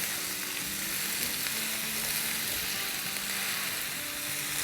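Mixed vegetables sautéing on a high flame, a loud, steady, broadband hiss of frying that holds continuously throughout, with faint stirring scrapes and no talking.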